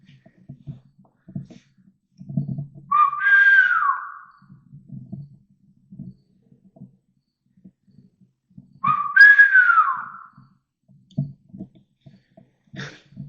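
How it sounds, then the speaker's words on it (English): A person whistles two short rising-falling notes several seconds apart in the tunnels of Fort Knox, Prospect, Maine, with soft thumps and rustling in between. "that was me whistling"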